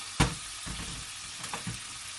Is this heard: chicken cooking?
yes